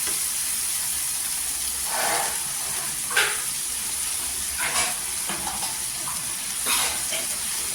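Cabbage tossed with turmeric sautés in hot oil, a soft continuous sizzle with occasional scraping stirs and clinks of a spoon against the pan, fairly quiet, no talking.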